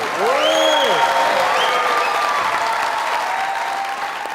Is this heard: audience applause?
yes